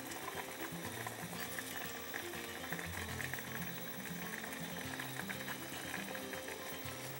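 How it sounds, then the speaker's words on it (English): Stock with pollock fish roe bubbling at a low boil in a Korean clay pot, a faint, steady, close simmering with no voices. "When the stock comes to a boil, we'll add the pollock fish roe"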